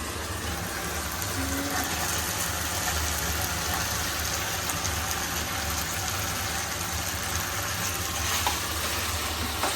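Cauliflower gobi manchurian being stirred and mixed in a hot pan, a steady sizzling and scraping hiss that runs continuously and evenly throughout, close and fairly loud with no voices.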